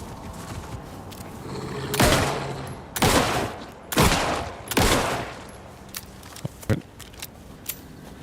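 Gunfire in the video game Alan Wake 2: four loud, broadband shots about a second apart, followed by several sharper, fainter cracks and clicks, with no talking over them.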